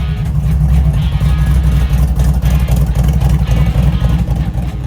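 A carbureted 5.3 LS truck engine warming up rumbles loudly up close, its throaty idle rising and surging in short revs before settling.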